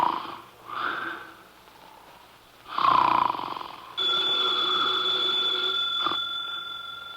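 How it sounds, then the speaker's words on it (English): Deep, rasping nasal snores in slow rhythm, two or three long breaths close by, then a ringing telephone tone cuts in and continues. "His eyes are closed, and he's making sounds through his nose."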